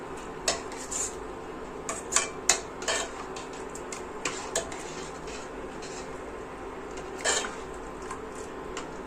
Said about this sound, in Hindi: उसके बाद मैं कुकर में लगा दूँगी ढक्कन